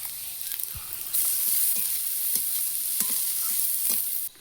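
Bottle gourd peel stir-fries in a pan with salt and turmeric. A steady sizzle swells after the first second, broken by repeated spatula scrapes and taps, then stops abruptly at the end.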